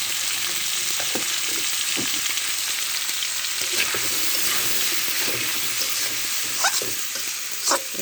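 Grass carp pieces fry with turmeric in a pan, a loud, constant, close sizzle with scattered clicks and pops from stirring and no talking.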